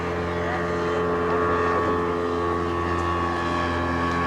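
A motorboat engine drones steadily across open water on the lake at Beijing's Summer Palace, a continuous humming roar that neither rises nor fades.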